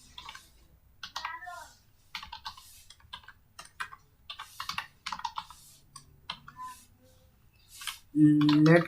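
Fingers tap out JavaScript code on a computer keyboard in quick, uneven bursts of light clicks, fairly close and quiet, with a brief louder burst of noise near the end.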